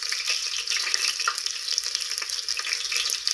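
Green chilies fry in hot, crackling tempering oil for dal khichdi, making a steady close sizzle with dense popping and crackle throughout.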